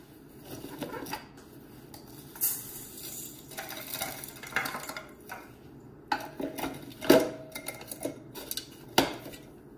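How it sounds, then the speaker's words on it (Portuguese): A knife chops ingredients for a brigadeiro mousse tart, giving irregular sharp taps and clicks against a board, some in quick bursts, close and fairly quiet, with faint utensil clatter and no talk. "Vou picar o resto."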